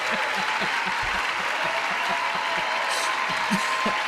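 Steady applause from the chamber audience at a US State of the Union address, dense clapping that holds at an even level throughout.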